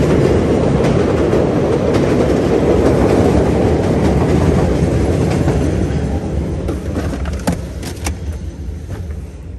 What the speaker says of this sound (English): Here comes another train, guys.